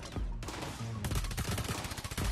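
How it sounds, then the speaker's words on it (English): Rapid bursts of gunfire from a Tom Clancy multiplayer shooter video game crackle close and loud, a short run of volleys broken by a brief pause and then fast repeating shots. "It's a pretty good gunfire right there"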